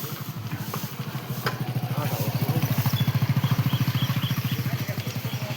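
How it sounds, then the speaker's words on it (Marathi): A vehicle bringing bricks to a house construction site idles nearby, its engine throbbing in a steady, fast, even chug that grows slightly louder. "गाडी आली आरती."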